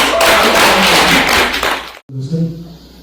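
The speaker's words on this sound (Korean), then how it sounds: "이렇게 보문선을 이끌어 가시는데 애쓰시는데 박수 한번 해주세요" A hall full of listeners claps warmly at a Korean Buddhist Dharma service, dense loud applause for about two seconds that cuts off sharply, followed by a brief low voice.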